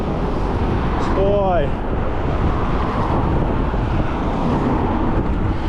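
Heavy, constant wind buffeting a microphone while riding an electric bike near Sochi, rumbling throughout, with a brief spoken word and a faint passing engine in the background.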